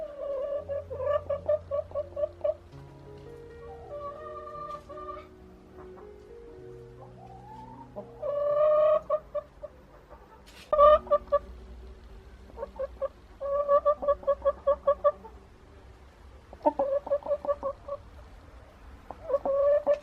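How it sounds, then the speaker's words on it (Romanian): A hen in a backyard coop cackles in repeated loud bursts of sharp, rhythmic clucks, pausing between volleys, with other fowl murmuring softly underneath. "una dintre ele croncănea foarte nemulțumită că și-a găsit cuibarul preferat ocupat"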